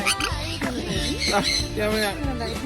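A pet bird in an aviary squawks and chirps in repeated harsh, wavering calls, loud and close, with people talking at the same time.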